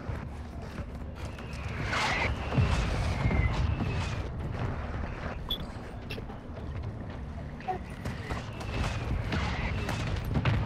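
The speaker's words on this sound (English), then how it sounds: "Requesting fire mission. Target lock. Copy that. Mortar strike inbound." Mortar strike explosions and gunfire in Call of Duty: Modern Warfare II, a steady rumbling barrage of blasts and crackling shots running throughout, with faint whistling incoming rounds overhead.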